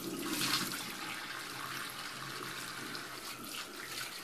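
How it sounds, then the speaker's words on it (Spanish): Cool tap water runs steadily from a bathroom faucet as a face is rinsed during a nighttime facial cleansing routine, a continuous close splashing rush throughout. "Ahora procedemos a enjuagarnos la cara."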